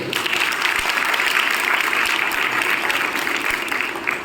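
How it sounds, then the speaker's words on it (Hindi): A college audience at an Indian girls' college talk applauds steadily, a dense, even wash of many hands clapping throughout with no break. "अपने लिए ज़रा तालियां तो बजा दीजिए"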